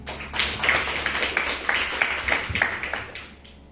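Audience of mothers and parents clapping at a seminar, a moderate burst of hand claps with several distinct louder claps, then fading toward the end.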